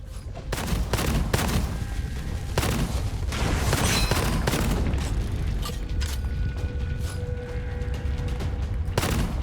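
Gunfire from the normal weapon in the first-person shooter Gunfire Reborn, a dense run of loud, punchy shots with mechanical clatter and booms, fired steadily and unevenly with no voices.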